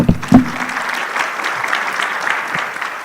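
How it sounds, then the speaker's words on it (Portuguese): Short burst of audience applause at a talk on successful hiring of women professionals, steady and fairly close clapping from a small crowd for about three seconds. "Uma salva de palmas."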